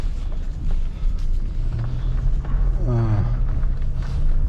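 A car drives slowly at night along dark, wooded driveways on a delivery route, its engine giving a steady low rumble throughout, with a brief rising tonal whine near the end.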